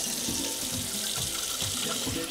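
Water from a kitchen tap runs steadily into a container, a continuous loud splashing rush that fills the whole moment without any speech.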